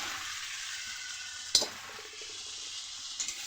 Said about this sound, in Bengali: মশলাটা পুরো কষানো হয়ে গেছে, এবার দিয়ে দেবো এঁচড়টা।